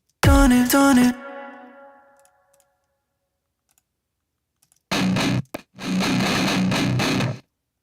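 A few synth notes ring out and trail off in a long, echoing tail, then denser bursts of synth sound return after a pause.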